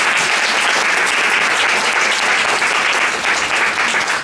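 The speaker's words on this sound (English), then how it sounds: "Now we clap." An audience gives loud, continuous applause after a student presentation on the opioid crisis and hepatitis C, a steady wash of many hands clapping close by.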